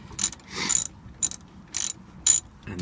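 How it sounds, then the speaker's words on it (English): A ratchet clicks in four or five short, bright bursts as the 14 mm brake caliper bolts on a Trailblazer are tightened, close up with brief pauses between strokes and no voices. "now we're going to tighten these here on the caliper. These are the 14 millimeters."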